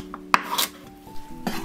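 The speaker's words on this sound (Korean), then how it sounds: "당근 한 개는 반을 갈라 깍둑 썰기를 합니다." A knife dices a carrot on a cutting board, giving a few sharp, close knocks spread out over a quiet kitchen moment.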